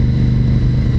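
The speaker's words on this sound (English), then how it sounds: "the engine sounds exactly the same at 50 kilometers an hour as it does at 150 kilometers an hour" A motorcycle engine runs steadily while riding on an open road, a low droning hum with a constant rumble and no change in pitch across the brief moment, loud and close.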